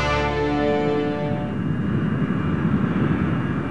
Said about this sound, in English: a Delta Boeing 727 airplane, like this one, was cleared for takeoff from Dallas-Fort Worth Airport